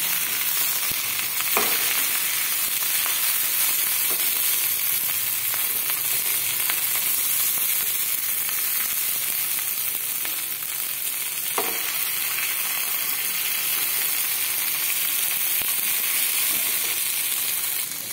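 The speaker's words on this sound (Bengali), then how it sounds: "এক পিঠে আমার ভাজা হয়ে গেছে। এক পিঠে উল্টে দিয়েছি।" Bhetki fish wrapped in small banana leaves fries in a covered pan, giving a steady, even sizzle and hiss throughout with a few faint clicks and taps.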